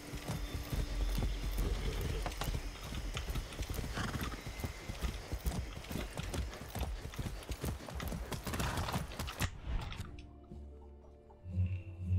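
Horse hooves clip-clop steadily while riding in the video game Far Cry 6, a fast, loud, even rhythm with a whinny mixed in, cutting off abruptly near the end to quiet.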